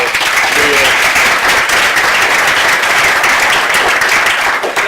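Loud, close applause fills a conference hall at the closing remarks, thick and continuous from start to finish with a few voices faintly underneath.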